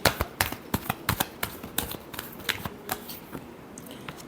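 A tarot deck is shuffled by hand, a rapid run of crisp riffling snaps and taps repeating close and loud with no one talking.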